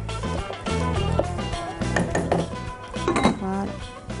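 A utensil stirs rice into a cooking pan, giving close, repeated metallic clinks and scrapes in quick irregular bursts.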